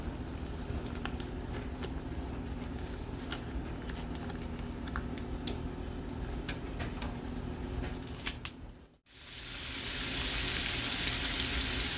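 Skinless sausage links fry in a pan while being broken into crumbles, giving a soft, fairly quiet sizzle with a few sharp scraping clicks, a brief dropout, then a brighter, louder hiss.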